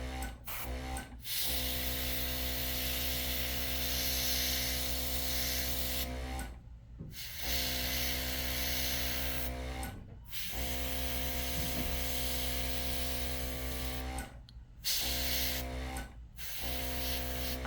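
Continuous airy hissing of an airbrush spraying in long bursts, broken by a few short pauses, with a constant low hum underneath.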